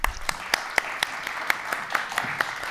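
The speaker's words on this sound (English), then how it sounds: "please help me in welcoming them both with a round of applause for their fireside chat" An audience claps to welcome two speakers to a fireside chat, a thin, moderate round of applause with distinct individual claps landing at a steady rhythm.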